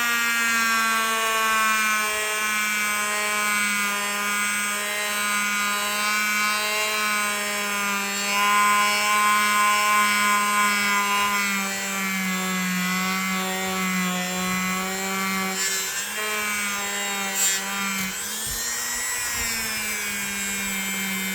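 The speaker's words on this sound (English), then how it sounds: "when you're polishing, a low speed and very little pressure on here" A large polishing wheel spins at low speed against a vintage Kutmaster electrician's knife under very light pressure, a steady tonal motor hum with a soft rubbing hiss that wavers slightly near the end.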